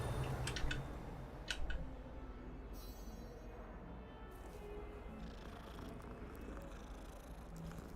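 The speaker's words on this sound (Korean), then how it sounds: "고양이다" Cat purring in the Hogwarts Legacy video game, a steady low rumble running throughout beneath game ambience, with a few brief clicks and ticks early on.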